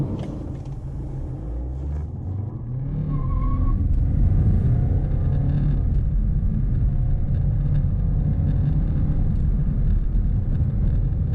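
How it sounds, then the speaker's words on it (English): A BMW 220d Gran Coupe, a front-wheel-drive diesel, accelerates hard from 0 to 60 in a low, steady engine rumble that swells after a couple of seconds and holds loud and close from inside the car. "let's go and do an 0 to 60"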